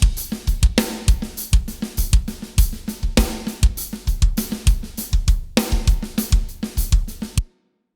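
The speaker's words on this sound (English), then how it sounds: "So for the drums, I'm using P5 from GGD." GGD P5 virtual drum kit using the Wildfire full turbo preset: punchy kick and snare hits with crashing cymbals in a driving rock pattern, loud and continuous, then stopping abruptly.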